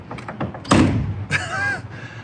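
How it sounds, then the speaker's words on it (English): A 1977 Mercedes-Benz 450 SL door swings shut with one solid, heavy thud up close, followed by a faint metallic latch ring and a soft rustle of handling. "The way that that door sounds, it sounds like a bank vault closing"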